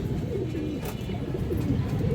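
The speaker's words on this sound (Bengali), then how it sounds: "লাল চুল্লি রোড লাইনের কবুতর এগুলো" Lal chulli road-line pigeons coo in a dense, low, continuous murmur, several birds close together, with a brief brighter flutter or rustle midway and no talking.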